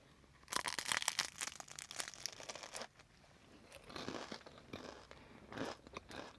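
Close crunchy bites into a flaky croissant pastry, a burst of crackling crumbs followed by quieter chewing and a few more crisp crunches.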